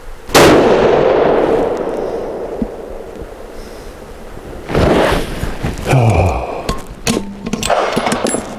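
Gunshots from a Magnum Research Mountain Eagle rifle in 28 Nosler, several loud sharp blasts with long echoing decay, spaced a few seconds apart outdoors, no talking.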